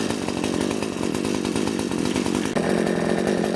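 A Full Boar 53cc chainsaw with a 20-inch bar runs close by, a loud continuous buzzing two-stroke drone with a slight pitch lift near the end, no voices.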